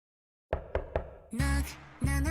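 Knocking at the start of the intro to a K-pop music video, three sharp, evenly spaced knocks followed by punchy bass-heavy beats, loud and alone.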